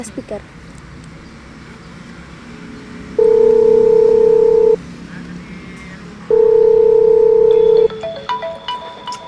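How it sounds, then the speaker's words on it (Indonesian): A telephone call to a friend plays two long, steady dialing tones separated by a pause, followed by short beeping tones, all close and loud over quiet background noise. "Kavia, telepon Devan."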